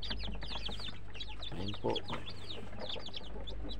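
Newly hatched day-old chicks from a homemade refrigerator incubator peep continuously in a dense, overlapping chorus of high chirps close by, with a man's brief speech in the middle.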